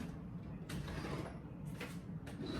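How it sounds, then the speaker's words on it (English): An old electric hand mixer runs steadily, giving a close, continuous motor whir with a mechanical rattle and a few brief surges in its grinding tone. "All right, my little mixer."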